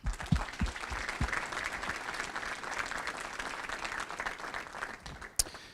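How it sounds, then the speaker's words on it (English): A crowd at a Rotary Club career technical awards and scholarships event gives sustained applause. Dense clapping starts with a few louder claps, holds steady, then thins out before one sharp final clap. "So a round of applause for everyone."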